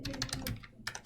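Quick bursts of keystrokes on a computer keyboard, typing out an office number during a live-streamed operating systems lecture, close and clear with a short pause before a final few taps.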